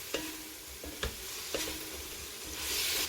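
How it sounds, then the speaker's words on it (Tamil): Beans tossed with dark, salt-free soy sauce in a hot pan over high flame, giving a steady close sizzle broken by three sharp spatula scrapes and stirs, with the frying hiss swelling toward the end. "இப்போ இவரத்தில் பீன்ஸ் கொஞ்சம் வதங்கினா மட்டும் போதும்"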